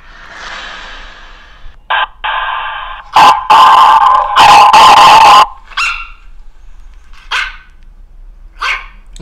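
Dogs barking in a series of loud, close, sharp barks with some yips, a cluster in the middle and a few scattered barks afterward.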